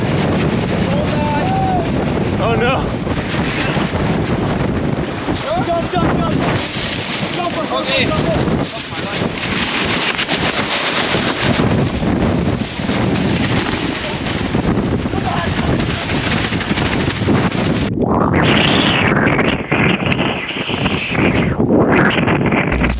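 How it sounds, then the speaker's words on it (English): Strong wind and pouring rain buffet a boat on a river crossing toward rapids, a loud continuous roar with heavy wind gusts on the microphone throughout, and a person cries out briefly. "Rain poured down, strong winds rose, and the current pushed the boat toward dangerous rapids."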